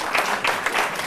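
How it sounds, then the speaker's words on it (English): An audience claps for a set of awards: brief, dense applause with quick rhythmic pulses of individual claps, close and lively throughout. "Let's applaud these awards."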